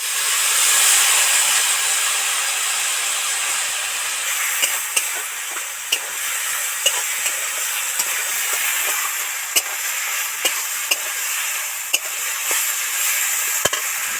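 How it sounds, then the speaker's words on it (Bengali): A constant oily sizzle fills the air as fig (dumur) pieces deep-fry with liquid masala while a utensil stirs and scrapes the pan with sharp, irregular clicks. "মশলা দিয়ে তো ডিপ ফ্রাই করে ভেজে নিলাম"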